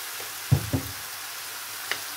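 Chicken breast, 350 grams, goes into a pan with fried onion, giving a faint sizzle with a couple of soft knocks and clatters of utensils against the pan, and no voices.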